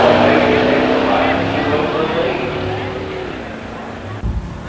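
Classic muscle cars launch off a drag strip starting line, a loud, dense engine roar with a steady tone that eases slightly as they pull away, ending with a short thump.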